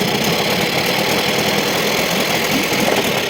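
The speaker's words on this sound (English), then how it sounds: "She runs beautiful, this old motor." An old Tohatsu outboard motor runs steadily in gear, a loud, close, continuous engine drone with a rough knocking texture and no talk over it.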